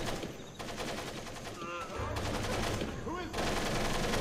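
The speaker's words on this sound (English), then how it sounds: "Why are they even shooting anyway?" Sustained bursts of automatic gunfire in the video game Splinter Cell, loud and continuous with rapid repeated shots and brief swells, some faint voices underneath.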